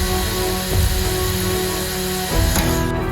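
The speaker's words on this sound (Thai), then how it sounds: "หรือเจาะเหล็กก็ทำได้อย่างง่ายดาย" A DeWalt cordless drill boring into steel, a loud, sustained, close motor whine with a couple of brief surges as the bit works, heard without speech.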